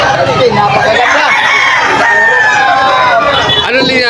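A rooster crows loudly and repeatedly at a busy chicken market in Bocaue, Bulacan, amid clucking fowl and constant crowd chatter, with people talking nearby throughout.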